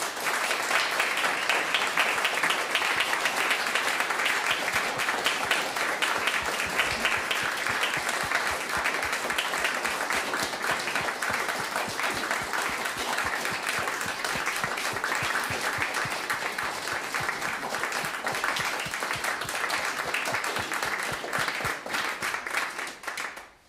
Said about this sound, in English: I'd like you all to give a big round of applause to our singers.